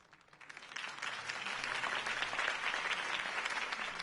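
A crowd bursts into steady applause in the video game Batman: The Telltale Series, many hands clapping together, building quickly and holding at full strength.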